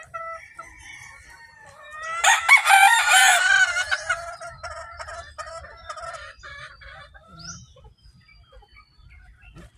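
Farmyard chickens, laying hens among them, cluck nearby, with a loud burst of excited clucking and cackling early on that settles into scattered softer clucks.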